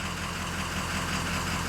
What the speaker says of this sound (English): So now I'm gonna turn off the engine